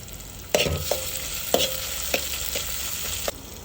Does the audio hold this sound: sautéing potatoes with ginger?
yes